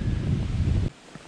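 Wind on a mountain section of the Appalachian Trail near Blood Mountain buffets the microphone with a loud, steady rumble for almost a second, then drops to a quiet hush.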